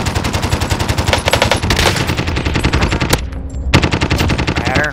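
Rapid automatic gunfire in the Call of Duty: Modern Warfare video game, loud and close with dense repeated bursts broken by short pauses.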